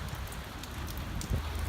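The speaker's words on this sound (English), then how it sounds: "It's raining a bit today," Light rain falling outside a building, a soft, steady hiss with faint scattered drops, low and continuous with no talk.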